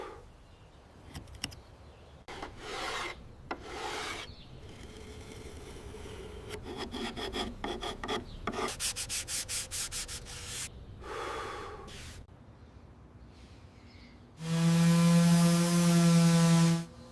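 Edges of a hand-carved white oak Lamborghini Aventador SVJ replica are smoothed by hand, giving intermittent rasping, rubbing sanding strokes of varying length before a loud, steady tonal whine takes over near the end.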